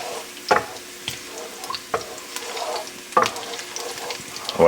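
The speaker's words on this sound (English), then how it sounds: "So we're just going to start this garlic on high." Garlic frying on high heat in a pan, with a steady close sizzle broken by a few sharp scraping stirs and clatters, no voices.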